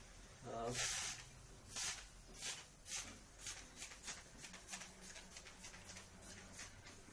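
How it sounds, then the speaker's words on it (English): A spray bottle of rice water hisses onto hair in a quick series of short, evenly spaced pumps, close and soft, with no talking. "now spray your hair just randomly"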